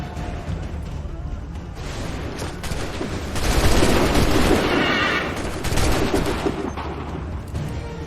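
Massed musket volleys boom and crackle across the battlefield in Assassin's Creed III, the loudest rolling burst landing in the middle, with shouting voices underneath.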